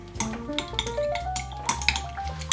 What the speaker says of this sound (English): I usually stir the fragrance for about a minute or two in these